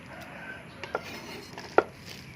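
A knife chops pickled chillies on a cutting board with a few sharp, separate strikes, the strongest near the end, against a quiet room background.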